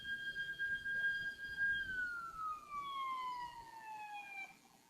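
A warning siren sounds at a SpaceX Starship SN8 test site ahead of a Raptor engine test, a steady high wail that drops in pitch partway through and fades, carried over low background noise with no talking.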